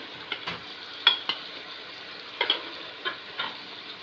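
Beef with yogurt fries in a pan for Hyderabadi biryani, a soft steady sizzle broken by several distinct spoon scrapes and clinks at irregular intervals.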